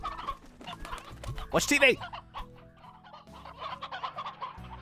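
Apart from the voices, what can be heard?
chickens clucking in Slime Rancher video game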